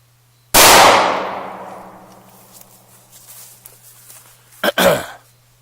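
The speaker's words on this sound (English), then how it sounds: "124 grain out of short-barreled concealed carry pistol." A single sharp, loud 9mm shot of 124-grain ammunition fired from a short-barreled concealed carry pistol, ringing out and decaying over a couple of seconds, followed by a faint clatter and a brief close thump.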